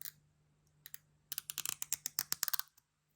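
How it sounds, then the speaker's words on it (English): Crinkly plastic film peeled from a Casio DW-290 digital watch: a quick burst of sharp crackling rustles after a couple of faint ticks, close and fairly quiet, then stopping. "let's pull this plastic off"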